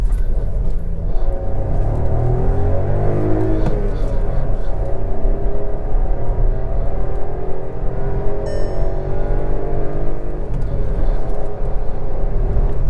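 A Skoda Kushaq's engine pulls hard in second gear, a steady loud rumble with rising revs that holds throughout, heard from inside the cabin.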